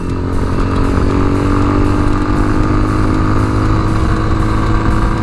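A Tao Tao TBR7 motorbike engine runs while riding, a loud, steady buzzing drone close up with no pauses and wind noise underneath.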